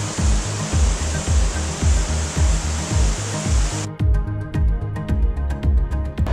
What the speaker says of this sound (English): Thunder Creek Falls, which is a waterfall that's 28 metres high